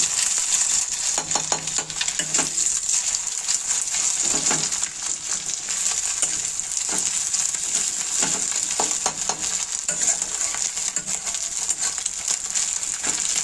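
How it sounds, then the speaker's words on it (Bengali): An egg fries in a very hot kadai, giving a loud, steady, crackling sizzle that runs unbroken throughout, with a few spattering pops and light scraping sounds on top. "ডিমটা দিয়ে দিয়েছি, একটু লেগে গেছে যেহেতু কড়াইটা খুব গরম হয়ে গেছিল তাই।"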